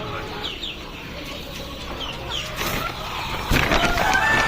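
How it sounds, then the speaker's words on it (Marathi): Hens at a village free-range poultry farm cluck repeatedly in the morning, with several overlapping calls close by and a louder burst of activity toward the end. "कोंबड्या आल्या"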